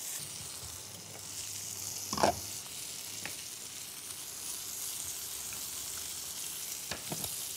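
Veal sweetbread pieces fry in a pan with a constant soft sizzle, briefly flaring louder as they are pressed down, plus a few light utensil scrapes; quiet and close, no voices.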